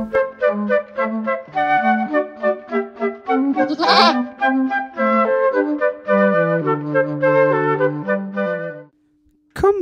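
A goat bleats repeatedly in a long series of wavering, nasal cries, loud and close, with a brief pause near the end.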